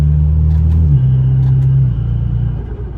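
Deep, loud engine drone from a BMW F30 during a gear shift: a steady low hum drops in pitch partway through as the gear changes, then settles into a lower rumble that fades slightly.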